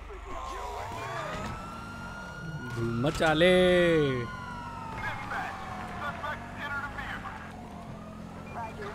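A police car siren in GTA 5 wails and sweeps up and down beside engine noise, rising loudest near the middle, while someone speaks over it.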